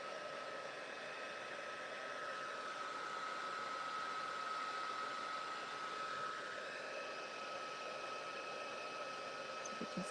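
An embossing heat tool blows steadily to set white embossing powder on navy cardstock, a loud continuous hot-air roar that holds evenly for the whole stretch with no talk over it.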